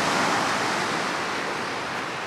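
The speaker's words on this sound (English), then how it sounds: "I don't think I've fished a calmer ocean." Calm ocean surf at a fishing beach, a steady, even wash of gentle wave noise with no distinct breaks, heard alone without voices.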